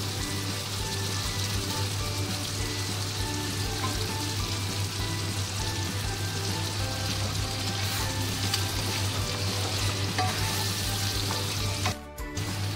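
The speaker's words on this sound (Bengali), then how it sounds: "এইবার চিকেনগুলো আস্তে আস্তে দিয়ে দেবো।" Marinated chicken frying in a pan for chicken do pyaza, a loud dense continuous sizzle like heavy rain, steady throughout with a brief clatter near the end, no talk.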